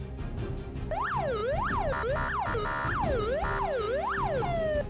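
An ambulance siren in the Minecraft video game wails loudly in repeated rising and falling sweeps over a steady background hum, with no talking.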